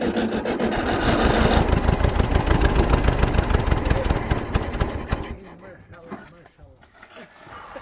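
An old VW T2 pickup engine, abandoned for 34 years, cranks in a loud, rapid, rhythmic churn for about five seconds, then cuts off, leaving quieter shuffling and faint voices.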